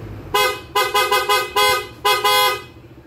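Loud PIAA aftermarket car horn blasting in a series of short and longer honks, six bursts in about three seconds with brief gaps, close and dominant with no talk.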